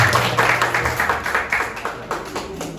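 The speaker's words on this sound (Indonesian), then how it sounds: "Oke, tepuk tangan semuanya." A small group of people clap together in a room, the separate claps audible as a loose, uneven patter at moderate loudness that thins out toward the end.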